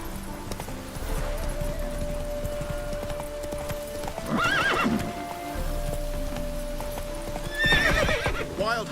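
Roach, a horse in the video game The Witcher 3, gallops with rhythmic clip-clop hoofbeats, broken by two sharp neighs and whinnies over a low in-game music drone.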